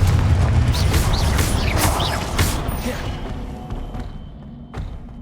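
A Confringo spell erupts in Hogwarts Legacy as a loud, close, booming blast with heavy low rumble and thuds, fading into a quieter tail with a few later knocks.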